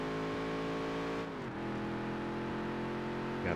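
A race car in the Dirt to Daytona video game downshifts, its steady engine tone dropping sharply in pitch around the middle and then holding lower, alone and clear without talk.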